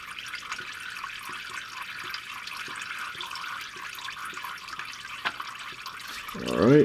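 Transmission fluid drains from the loosened pan of a Jeep Cherokee XJ, making a faint, steady trickle with soft drips, and a louder rustle near the end.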